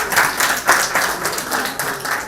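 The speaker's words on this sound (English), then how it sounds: "Can we give your administration and all the teachers a round of applause?" An audience of students at a government high school in Guntur claps for their administration and teachers, a brief burst of dense, rhythmic applause.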